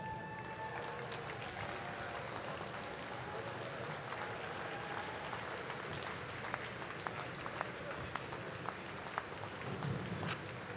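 A graduate school commencement audience at Virginia Tech in spring 2017 applauds new doctoral degree holders, producing a continuous, fairly distant wash of clapping that stays even for about eleven seconds.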